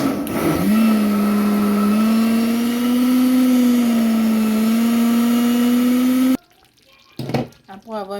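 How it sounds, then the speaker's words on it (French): A kitchen blender purées cooked vegetables for a peanut sauce with smoked tuna, running as a loud, continuous whir for about six seconds before cutting off abruptly. A voice speaks briefly afterward. "Nous allons les retirer pour les mixer."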